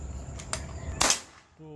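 A PCP air rifle fires close by, giving one or two sharp cracks with a short ringing tail, and a voice briefly follows.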